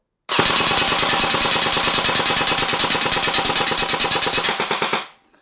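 An Umarex AER16 airsoft electric carbine firing 4.5mm BBs on full auto lets out one loud, close, unbroken burst of rapid, evenly spaced shots lasting about five seconds, then stops abruptly.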